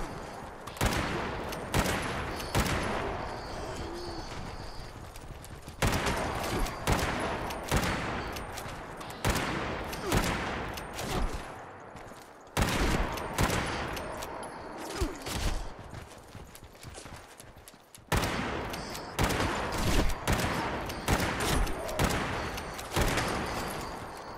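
Quad fire rate lever action rifle in Fallout 76 firing in rapid bursts of sharp shots, loud and close, with brief pauses between volleys over game ambience.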